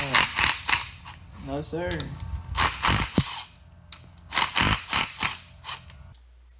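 Cylinder head bolts on a 4G63 engine being loosened with a ratchet, producing loud, close bursts of rapid clicking and sharp creaks in several separate bouts, with brief talking between them.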